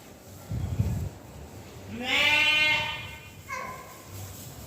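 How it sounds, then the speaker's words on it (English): A single drawn-out bleat from a goat or sheep, fairly close, with a shorter second call after it and a soft low thump at the start. "Some goats, I think."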